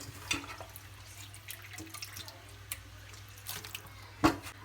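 Water dripping and trickling from squeezed meat during home cooking, a few irregular splashes and drips close by, quiet between bursts, with no voices.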